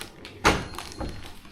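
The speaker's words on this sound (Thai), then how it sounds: "ปิดประตูให้เขาแน่นๆนะคะ" A door is shut with a single muffled thud near the start, followed by soft room rustle and a faint second knock.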